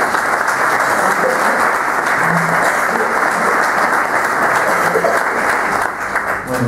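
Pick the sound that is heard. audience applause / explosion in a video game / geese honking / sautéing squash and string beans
audience applause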